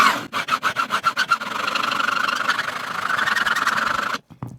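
A harsh metal file rasps against a maple guitar neck, first in about ten quick, separate strokes, then in one long continuous scraping pass that stops abruptly near the end; close and fairly loud, with no talking.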